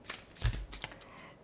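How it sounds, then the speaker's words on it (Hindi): Large oracle cards are shuffled by hand in a short burst of riffling and flicking, close and fairly quiet, with no talking. "These are so big cards, ये ओवरऑल शफल करने में बहुत ही ज़्यादा अनईजी रहते हैं।"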